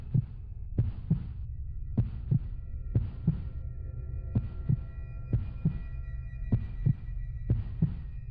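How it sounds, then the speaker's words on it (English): A slow heartbeat sound effect with repeated soft double thumps in a steady rhythm over a low hum, quiet and close with no voices. "I could hear the old man's heart."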